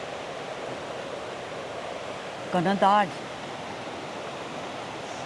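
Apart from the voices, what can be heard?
creek water rushing and gurgling down from above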